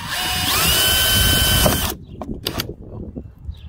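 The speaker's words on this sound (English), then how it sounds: "And then we're gonna use a 5/32 drill bit, taped off at 7/10 of an inch," A power drill with a 5/32 drill bit whines loudly and steadily while boring holes for a Garmin ECHOMAP UHD 73sv console mount, then cuts off, leaving a few light clicks and handling noises.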